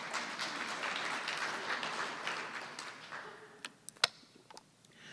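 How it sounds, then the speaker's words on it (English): A crowd at an awards ceremony for business of the year and distinguished citizen gives a soft, distant patter of applause for several seconds. The clapping fades into a few last isolated claps. "that's worth a clap."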